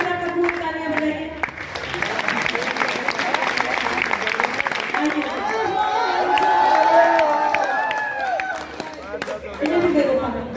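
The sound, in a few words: audience applause and cheering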